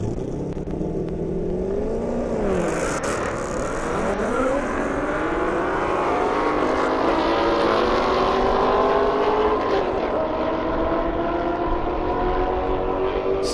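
A Roush Stage 3 Mustang and a Corvette Z06 race side by side down an airstrip, their engines roaring loud and continuous, pitch climbing and dropping through gear shifts as they pull away.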